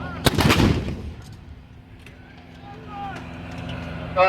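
A single loud artillery boom bursts out during live-fire training at Fort Sill, then rolls away into a long fading rumble, with faint distant activity after it.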